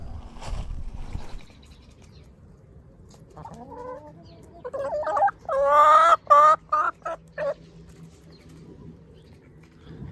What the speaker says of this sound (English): You don't like the ducks in your garden